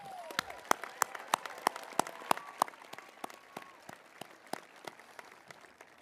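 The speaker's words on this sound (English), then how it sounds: "give him one more round of applause" A high school graduation audience gives another round of applause, with loud, distinct individual claps up close in a fairly regular rhythm over softer crowd clapping that gradually thins out.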